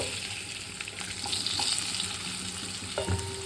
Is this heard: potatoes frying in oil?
yes